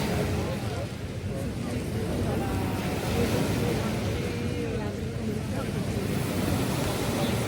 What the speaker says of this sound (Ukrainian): Яке прозоре море і приємні звуки.